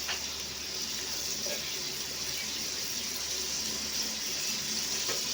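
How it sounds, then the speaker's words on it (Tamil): Water runs steadily from washed chicken in a home kitchen, a constant near hiss with no break, like a tap trickling into a sink, and no voice over it. "தண்ணி வடிச்சுக்கலாம்"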